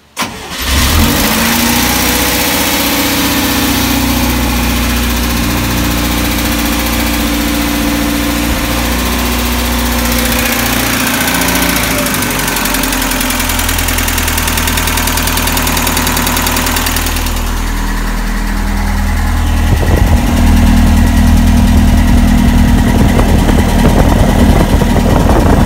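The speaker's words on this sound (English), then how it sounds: "It's gonna idle high because the choke is on" A 1965 Scout 800 truck engine runs loudly at a fast, steady idle with the choke on, its rumble continuous throughout with a slight shift in tone near the end.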